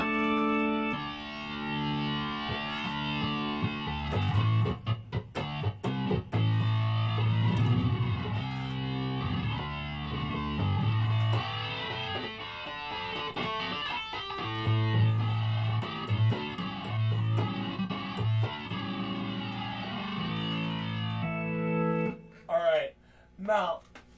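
Gritty distorted Roland VR-09 organ chords and notes played at length, buzzing and saturated, with a short bit of talking at the very end.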